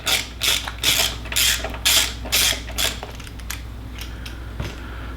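A ratchet or hex key turns out a 5mm Allen bolt from a left side cover on a WR250R motorcycle, giving about eight rhythmic ratcheting clicks close by, then fading into a low steady hum.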